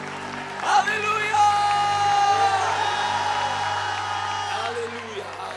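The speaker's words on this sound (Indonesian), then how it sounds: "Kamu tepuk tangan yang meriah" A church congregation claps and cheers in a sustained wave of applause, while a voice calls out over the crowd noise.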